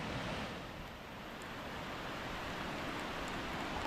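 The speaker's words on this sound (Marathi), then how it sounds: "नदीचा आवाज वगैरे ऐकू शकता धबधब्यांचा." A river and waterfalls rush through a deep, foggy valley of the Sahyadri mountains at Raghuveer Ghat near Khed in heavy monsoon rain, heard as a faint, distant, continuous wash of water with no other sounds.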